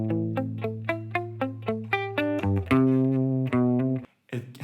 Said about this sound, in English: But if I were to do the palm muted version,